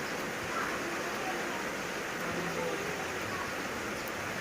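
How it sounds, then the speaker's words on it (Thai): Steady rain hisses evenly throughout, a dense, unbroken patter at moderate distance with no talking. "ฝนตกเบิดคืนครับ"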